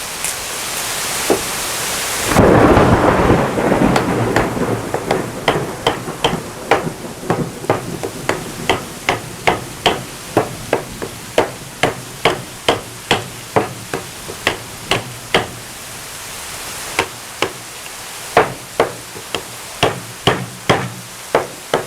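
Ontario Hop knife batoned through a piece of firewood, with a steady series of sharp, regular knocks as the blade is struck and driven down into the wood, close and fairly loud, with no talking.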